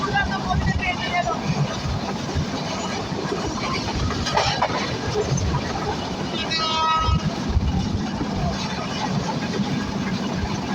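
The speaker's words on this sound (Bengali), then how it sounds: "আমাদের ট্রেনটা কিন্তু দুর্দান্ত গতিতে পেয়ে গেল।" Silk City Express intercity train at high speed on the Jamuna bridge route in Bangladesh, giving a continuous rumbling roar with rhythmic wheel clatter and faint muffled voices underneath.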